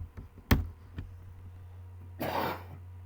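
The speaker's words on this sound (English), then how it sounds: "we've got a bit of a cough at the moment" A person nearby clears their throat and coughs in a few sharp bursts, followed by a longer rasping throat-clear, with no talking.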